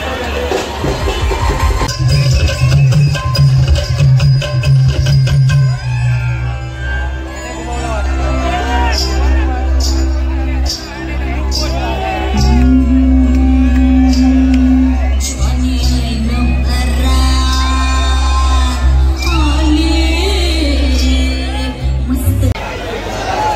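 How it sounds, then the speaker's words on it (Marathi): A big crowd cheers and whoops for the Sambhajinagar team at a Dahi Handi Govinda human-pyramid event. The roar is loud and continuous for over twenty seconds, with drums and band music mixed into the dense hubbub. "संभाजीनगरसाठी एक जोरदार टाळ्या होऊन जाऊन द्या."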